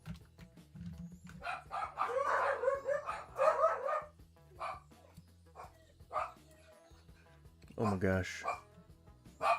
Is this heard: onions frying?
no